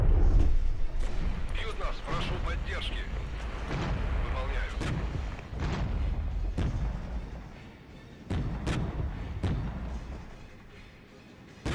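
Mortar fire in the strategy game Regiments: dull, heavy booming thuds repeat at irregular intervals beneath a busy battle din, while a voice talks over it.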